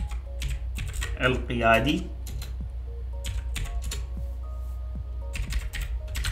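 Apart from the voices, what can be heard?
typing on a computer keyboard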